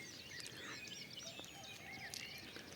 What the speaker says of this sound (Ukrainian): Чуєте, як пташки співають.